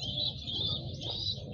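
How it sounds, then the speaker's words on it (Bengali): A pair of large pigeons, a hen among them, coo and call softly in a loft, the sound steady and low under a constant high-pitched background hiss, with no talking. "এখানে কিন্তু আরেক জোড়া কবুতর আছে, খুবই চমৎকার এক জোড়া কবুতর"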